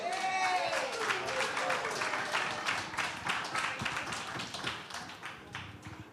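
Audience applause for panelists fills a civil rights anniversary gathering in Sunflower, a dense, steady wash of many hands clapping close by with no pauses.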